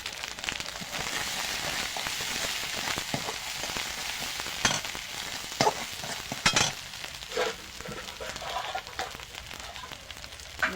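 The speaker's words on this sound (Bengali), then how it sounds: "মশলাটা কষিয়ে নিয়েছি" Spice paste with salt and turmeric fries in a pan for a catfish curry, a quiet, steady sizzle with intermittent stirring clinks and scrapes throughout.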